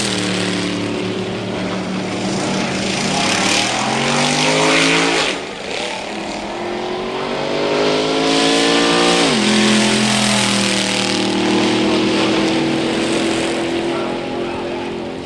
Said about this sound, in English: The first sounds are those of the stockers, the cars you and I drive on the street.